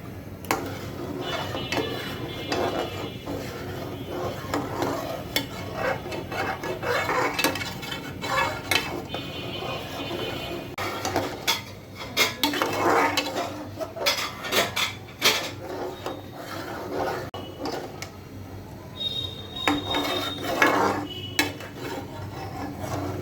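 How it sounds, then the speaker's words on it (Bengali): Stirring a pineapple jelly mixture in a pot, with a steady scraping and rubbing of the utensil against the metal and irregular clinks, continuing close and fairly loud throughout. "দেখুন আমি কিভাবে নাড়াচাড়া দিচ্ছি"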